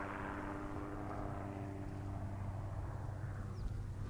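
Two helicopters working in tandem over a windy hill during a wild horse roundup make a steady, distant rotor-and-engine drone that persists throughout, low and continuous with no talking.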